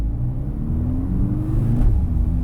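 A Mercedes C63 AMG pulls away at medium throttle, its engine note rising steadily as it accelerates, then dipping briefly near the change from first to second gear before building again; loud and close, with no talk.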